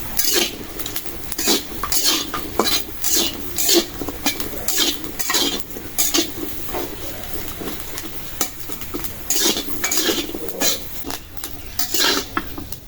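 Green chili, garlic and onion fried in a wok, stirred with a metal spatula that clinks and scrapes against the pan in frequent rhythmic strokes over a low sizzle, close and fairly loud.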